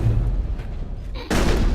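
Gunfire during combat in the Mass Effect 1 video game, a few heavy booming shots over dense game noise, followed by a sudden loud burst near the end.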